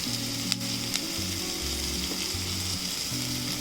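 Cabbage and mixed vegetables frying in a pan for a Maggi samosa filling, giving a steady, close sizzle with a low rumbling hum underneath and a couple of faint clinks.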